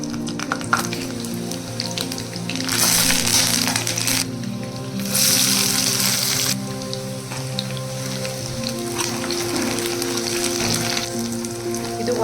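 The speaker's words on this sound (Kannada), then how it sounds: "ಬಿಸಿ ಬಿಸಿ ಕಾಯಿ ಎಣ್ಣೆ ಒಳಗೆ ಹಾಕೋಬೇಕು." Roasted peanuts dropped into hot oil for a Kannada-style tempering for susla sizzle and crackle loudly and steadily, with two bursts of stronger frying hiss, over background music and no talk.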